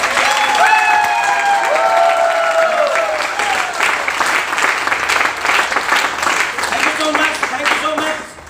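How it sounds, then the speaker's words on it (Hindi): A standing audience applauds loudly and cheers, with dense sustained clapping, voices rising through it and shouts near the start, before it cuts off at the end. "जोरदार ताली खड़े होकर बजाओ"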